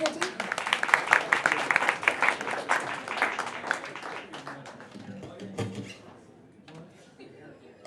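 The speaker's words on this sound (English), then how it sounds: "Clap it up one more time." An audience at an open mic night gives a burst of lively clapping and cheering that thins out over several seconds, with voices talking through and after it.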